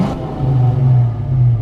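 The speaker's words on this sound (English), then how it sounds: "Go ahead and rev that up a little bit." A 1986 Ford Mustang GT with a factory 5.0 V8, five-speed and stainless dual exhaust gives a short, close rev, a deep low rumble swelling and holding briefly on its own.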